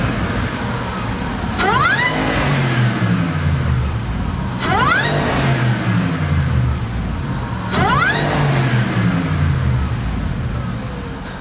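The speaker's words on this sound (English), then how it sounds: "you'll hear the noise, the amazing Supercharger whine from this kit" Jaguar XJR fitted with a Harrop TVS2300 supercharger and a silicone cold air induction kit, revving loudly three times in succession, each rise carrying a sharp climbing supercharger whine over the engine roar before settling back.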